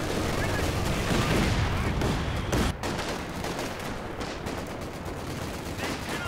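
Steady machine-gun fire from a Vickers gun in the video game Company of Heroes 2, rapid and continuous within a dense battle din, with a commentator talking over it.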